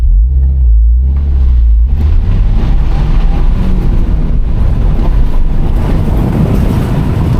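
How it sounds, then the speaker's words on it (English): A Subaru WRX with sport tires and traction control off launches from a stop on a dirt road, its engine rising into a loud, steady roar close to the microphone, with wind buffeting throughout. "Launch the car."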